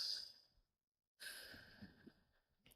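Forceful yogic inhale through the right nostril, a breathy airy rush heard near and quiet, fading into silence, then a second longer breath sound with faint rustling.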